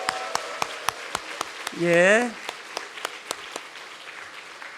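A church congregation claps in a steady scattered patter, with a single voice briefly speaking over it midway.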